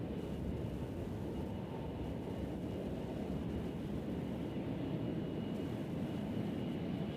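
An Amazon cargo airplane arriving on the center runway at Nashville International Airport, a steady distant engine roar rumbling low throughout.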